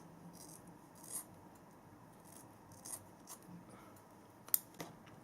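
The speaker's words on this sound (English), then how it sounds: "I'm going to give that a snip as well" Scissors snip hair while trimming a fringe at home, a few faint, brief close-up cuts spaced irregularly over quiet background, ending in a quick pair of sharper snips, with no speech.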